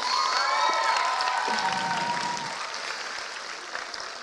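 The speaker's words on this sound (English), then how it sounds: "Can you give your parents a big round of applause, please?" Audience at a youth theatre company's junior musical production applauds the parents, a loud, dense roar of clapping mixed with cheers and children's high shouts that gradually softens.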